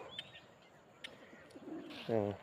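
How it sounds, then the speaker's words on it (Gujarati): Pigeons coo in a village at dawn, with faint bird chirps first and a short, close cooing call at the end of a quiet moment. "પક્ષીઓ આ કબૂતરો કબૂતરોનું ઘૂઘું ઘૂ"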